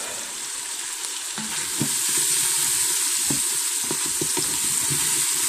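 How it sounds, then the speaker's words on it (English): Food sautéing on the bottom of an Instant Pot while making a low country boil: a loud, close, continuous sizzle, broken by sharp scrapes and knocks of a utensil stirring against the pot. "you're getting this little saute on the bottom of the pan"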